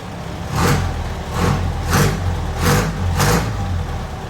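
A motorcycle exhaust revs up in five quick, evenly spaced bursts over a throaty idle, loud and close.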